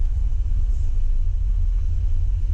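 Toyota Avanza 2022 with a 1.5 liter engine pulling hard on a long stretch, heard from inside as a steady, loud low drone and rumble that holds throughout without change or talk.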